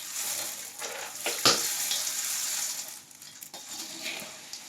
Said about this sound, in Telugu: బాగా అటుకులు కెలాక్స్ కొంచెం బాగా కలిసేటట్లు కలుపుకోవాలి